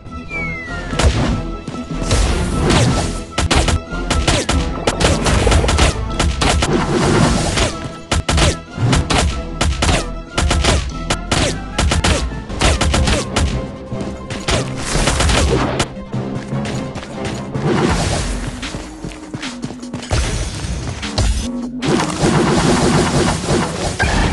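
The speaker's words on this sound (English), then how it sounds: "banana bombs!" Banana bomb explosions in the LEGO Nexo Knights video game, loud and dense, come as rapid bursts, thuds and crashes in a continuous chaotic barrage with game music and effects over the whole stretch.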